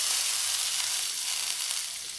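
Banana flower and potato frying together in a pan give off a steady, continuous sizzle, close and fairly loud throughout with no talking.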